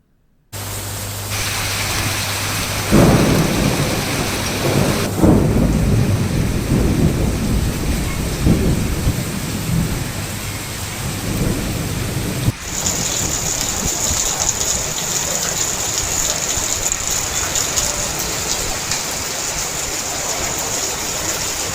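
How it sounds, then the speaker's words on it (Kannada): Heavy rain pours steadily in Bengaluru during a thunderstorm, with a deep rumble of thunder rolling through the first half before the downpour carries on alone as a dense, constant hiss. "ಹಲವು ಕಡೆ ಗುಡುಗು ಸಹಿತ ಮಳೆಯಾಗಿದೆ."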